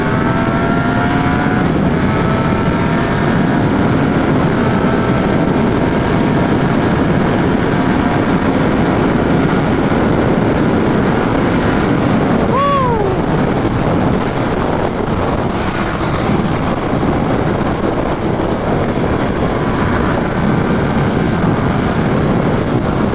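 Yamaha FZ-10 motorcycle being ridden, its engine a steady, loud drone mixed with heavy wind rush, with a brief rising-pitch rev partway through and no talking.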